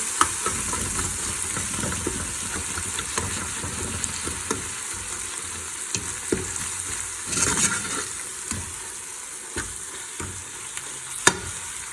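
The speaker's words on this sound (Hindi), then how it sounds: "इनको हम हल्का सा जो है वो फ्राई करते हैं" Steady sizzling of spices frying in a pan for a carrot, potato and fenugreek sabzi, with occasional scrapes and clinks of a spoon stirring, close by and continuous.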